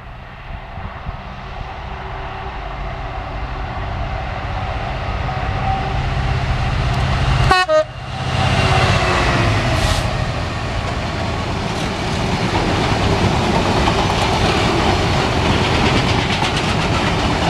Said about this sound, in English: And there's Lady June giving a wave, so we get a toot.